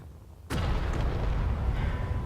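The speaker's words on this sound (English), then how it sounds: "Then let's send in the next torpedo" A torpedo strikes a ship and explodes in a video game: a sudden sharp blast followed by a sustained heavy low rumble that keeps roaring to the end, loud and close.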